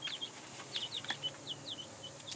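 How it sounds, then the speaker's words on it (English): A small backyard chicken makes soft, quick chirpy clucks in a short irregular series, close but faint over quiet background. "Look at you, beautiful chicken."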